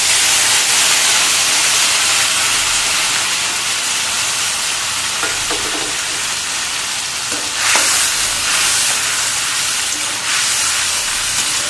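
Blended tomato hits hot oil for an egg curry and gives a loud, continuous, close-up sizzling hiss that holds steady throughout, with a few brief stirring scrapes partway through. There is no talking.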